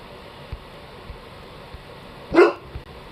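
A dog named Harley gives a single sharp bark partway through, set against faint background hiss and a few light knocks.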